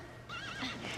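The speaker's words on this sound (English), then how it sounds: "Always so fun to watch Xena get on a horse" A horse whinnies in a brief, faint neigh with a wavering pitch in a Xena: Warrior Princess episode, accompanied by light hoof clip-clop.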